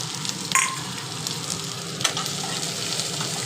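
Chopped onion and green chili frying in a pan of hot oil for a Bengali potato curry, a steady, fairly loud sizzle with two sharp spoon-scrape knocks, and no talking.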